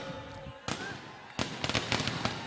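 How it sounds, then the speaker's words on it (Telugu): Fireworks go off at a political rally, with several sharp crackling bursts in quick succession heard fairly faint amid the outdoor crowd noise. "చిరంజీవి గెలిచినప్పుడు బ్రహ్మాండంగా బాణసంచా పేల్చాలి, కానీ ఇప్పుడే పేల్చేస్తా ఉన్నాడు."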